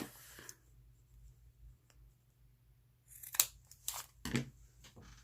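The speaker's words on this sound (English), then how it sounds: "I think I need to cut this end off." Paper bag end being snipped off with scissors during a craft session: a few crisp cutting and crinkling sounds in quick succession near the end, following a quiet stretch.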